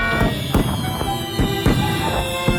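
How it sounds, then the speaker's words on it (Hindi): Fireworks explode in a rapid series of sharp cracks and pops, about seven bursts in under three seconds, loud and close over a bright, crackling background. "आतिशबाजी के लिए धन्यवाद"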